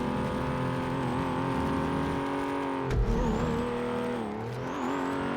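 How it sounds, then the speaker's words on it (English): Race car engine in the FiveM racing game, revving steadily with a whistling turbo whine layered on top, a brief thump near the middle, then the turbo spooling back up. "Such good turbo noises."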